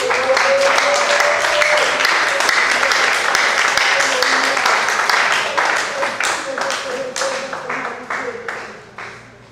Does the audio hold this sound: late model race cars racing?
no